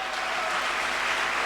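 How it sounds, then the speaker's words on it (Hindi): Short burst of audience applause at an indoor gathering honouring a guest, dense even clapping from a crowd, fairly loud and steady for its brief length. "मैं चाहूंगा सर के लिए जोरदार तालियां हो जाएं।"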